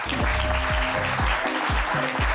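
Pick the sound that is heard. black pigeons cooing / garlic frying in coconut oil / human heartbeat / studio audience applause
studio audience applause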